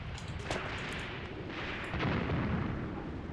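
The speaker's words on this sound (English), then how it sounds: "See what we do with our artillery." Artillery fire in the WWII tactics game Graviteam Tactics on the Luga Line: a few dull, distant booms and bursts rolling over a constant low battlefield rumble, no talk.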